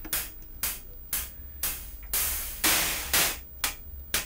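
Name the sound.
synthesizer noise through a filter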